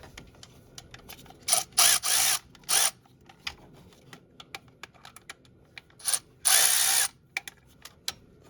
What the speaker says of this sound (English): For the bottom one, I'm going to use a 10 mil ratcheting.